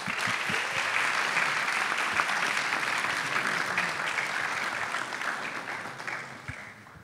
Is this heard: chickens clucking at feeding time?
no